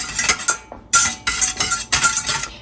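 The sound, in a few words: whisking a pumpkin mixture while heating it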